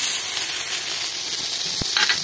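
Chopped potato and tomato sizzle in a wok, a bright steady hiss close by with a couple of brief clicks and scrapes near the end.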